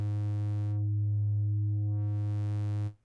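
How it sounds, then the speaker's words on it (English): A synthesizer wavetable sweeps smoothly from a pure sine toward a triangle wave, one sustained steady bass tone that brightens in the middle and thins again before stopping abruptly. "So it morphs from sine to triangle."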